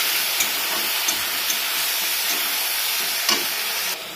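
Tomatoes sizzle steadily in a hot pan with a constant broadband hiss, broken by a few soft scraping knocks as they are stirred; close and fairly loud, no voices.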